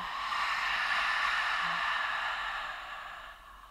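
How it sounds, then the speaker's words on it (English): A single long ujjayi yoga exhale, a soft, breathy rush of air through a constricted throat, heard close and alone and fading out over a few seconds. "when you're doing this ha sound is that you're finding a little constriction here in your throat"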